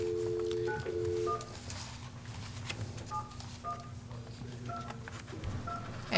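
Touch-tone keypad dialing on a telephone during a city council meeting, a run of short steady beeps in irregular bursts over a quiet room hum.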